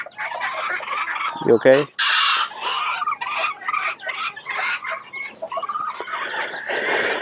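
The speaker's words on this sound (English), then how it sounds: "I was just checking in on the chicken" Bantam chickens cluck and call close by in a busy flurry, with one loud squawking burst and a person speaking briefly among the birds.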